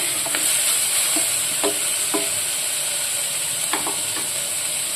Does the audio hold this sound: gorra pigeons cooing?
no